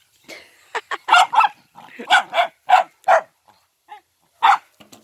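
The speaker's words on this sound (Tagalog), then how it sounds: "Ang ingay ng aso." A dog barks in a quick irregular series of sharp yips and barks, fairly close, with short pauses between bursts.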